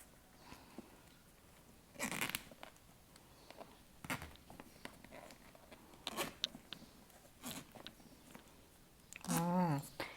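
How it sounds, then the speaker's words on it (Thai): A zipper is drawn up along a dress in a few quick rasping pulls, with soft handling and rustling of fabric between them, close and fairly quiet. "เราจะเริ่มรูดซิปกันก่อน"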